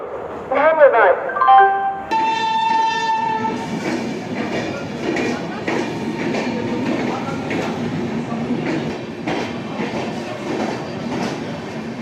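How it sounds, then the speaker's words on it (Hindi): The Howrah Kalka Superfast train arrives at platform 4 of a busy Indian railway station. A chime and a public-address announcement ring out over steady rumbling station and train noise. "गाड़ी नंबर 1-2-3-1-1 हावड़ा कालका सुपरफास्ट 4 नंबर प्लेटफॉर्म पर आ रही है"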